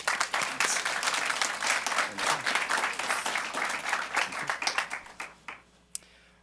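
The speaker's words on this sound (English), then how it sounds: "please join me in a round of applause." An audience at a school district board meeting claps steadily in dense, sustained applause that gradually thins out and fades, ending with a few scattered claps.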